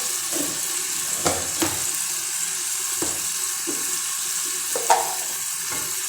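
Tomato paste frying in a pan, a steady soft sizzle with a few brief stirring clinks and scrapes, close and fairly quiet with no talk.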